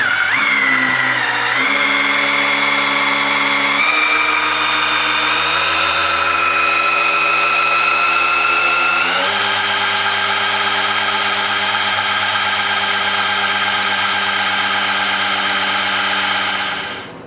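A power tool drives the oil pump of a 427 big-block Chevrolet engine on a run stand, pushing oil to about 40 psi. It makes a loud, steady whine with shifting tones that holds for the whole stretch before cutting off at the end.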